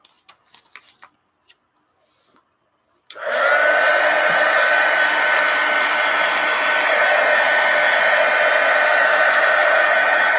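After a few soft handling taps, a hair dryer switches on abruptly and roars loud and steady, drying a mixed media collage pumpkin, with its airflow holding constant to the end.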